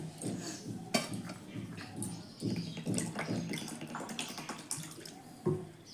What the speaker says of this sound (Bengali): এবারে এটাকে একটু ভালো জল দিয়ে ধুয়ে নেব।